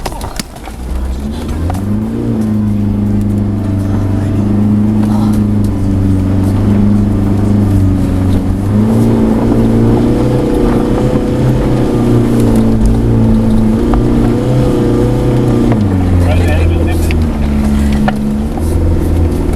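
A Land Rover Discovery D1 engine drones steadily and close while driving off-road through bush, a low, loud, continuous rumble with slight changes in pitch as the revs rise and fall.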